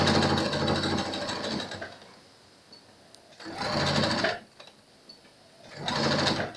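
A sewing machine stitches elastic into a pleated fabric face mask in three distinct bursts of rapid whirring, separated by quiet pauses, close and moderately loud.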